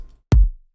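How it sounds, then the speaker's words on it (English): One deep, booming kick drum hit with a layered sub-bass tail that rumbles briefly and fades out. "This was the sub that I layered"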